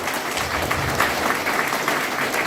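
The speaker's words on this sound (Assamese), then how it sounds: "তালিৰা মাৰি দিয়ক, তালিৰা মাৰি দিয়ক" Steady, dense applause from an audience at a Mi Lifestyle direct selling seminar in Assam, a continuous wash of many hands clapping close up with no voices.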